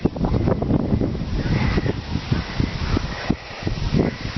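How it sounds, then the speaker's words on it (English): Gusty wind outdoors buffeting the microphone in rough rumbling bursts, loud and close, with a faint whoosh like distant surf behind it. "It's sort of windy here today."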